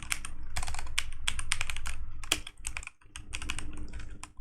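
Steady clatter of computer keyboard keys as JavaScript code is typed, dense bursts of clicks running nearly continuously with a brief pause in the middle, close and clear with no talking.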